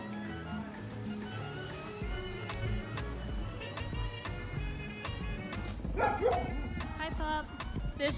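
A dog on a street in Santiago's Dominican neighborhood gives short barks and yips amid street noise and nearby talk, with a louder whining bark cluster toward the end.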